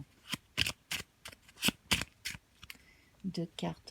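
Tarot cards are shuffled, flicked and set down in a run of sharp, close papery snaps and slaps, followed by a few softer taps as they are laid out.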